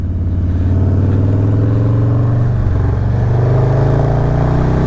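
A 2020 Harley-Davidson Low Rider S with a stage 1 tune pulls hard on the road, its loud, close, deep engine drone holding steady and climbing slightly in pitch as it accelerates out of a corner.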